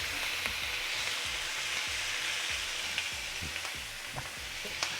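Moose stew with paprika and Worcester sauce sizzling in a cast iron pot, a steady dense hiss with soft rhythmic stirring knocks underneath, close and even.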